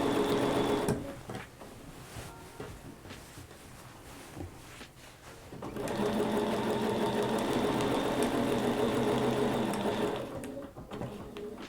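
A sewing machine stitches a quilt, giving a brief run at first, then a quieter pause, then a long, steady, close mechanical whir of rapid needle strokes before it slows again. No one talks.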